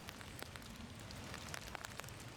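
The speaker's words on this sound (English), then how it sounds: "Still really rainy, so anything inside the circle you want to be sure to hit." Steady rain patters on the ground during a wet disc golf round outdoors, a soft continuous hiss with scattered sharper drops, fairly close, no talking.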